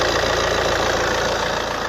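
A car engine idles steadily and evenly, a continuous mid-pitched rumble with a faint regular pulse and no other sounds.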